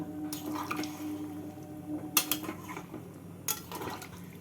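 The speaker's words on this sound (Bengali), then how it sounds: "জল দিয়ে সমস্তটাকে ভালো করে নেড়ে দেব" A spoon stirs potol and prawn curry in a pan just after water is added, making soft wet squishes and scrapes, with two sharper clinks against the pan, quiet and close with no talk.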